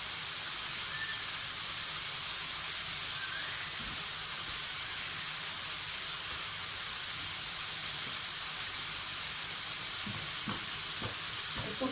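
Carrots and other spring roll vegetables seasoned with black pepper and salt sizzle in a pan, a steady close frying hiss throughout with occasional faint stirring knocks.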